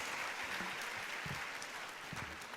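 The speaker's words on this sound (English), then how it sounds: "give a huge round of applause for CA Kotta S." Students at a CA conference inaugural session applaud CA Kotta S. Srinivas, a steady, fairly soft patter of many hands clapping in a large hall.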